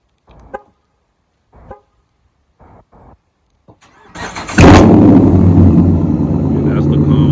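A 2016 Dodge Charger R/T with a Hemi V8 fires up on a cold start at about four seconds. It settles into a loud, rumbling high idle that fills the rest of the clip, with a few brief bursts of talk before it.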